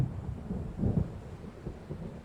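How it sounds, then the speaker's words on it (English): Low rumbling thunder from an approaching storm in the video game Alan Wake Remastered, a soft continuous roll with a brief swell near the middle, moderately distant and with no voices. "It seems there's a storm coming."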